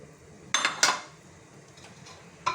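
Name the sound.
carrots being added to a pot of meat for couscous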